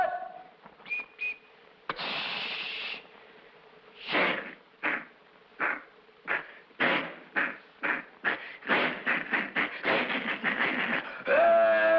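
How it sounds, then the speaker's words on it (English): A mouth-made impression of a train climbing a steep hill: a whistle toot, then a string of rhythmic chugging puffs that speed up toward the end, close and fairly loud. "Next is a train going up a steep hill."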